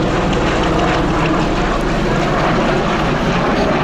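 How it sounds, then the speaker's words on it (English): A USAF Bell Boeing CV-22B Osprey tiltrotor tilts its rotors forward into aircraft mode during a flight demonstration. It makes a loud, steady, close roar of engines and rotors with no voices. "there's the transition to aircraft mode. Rotors tilting forwards,"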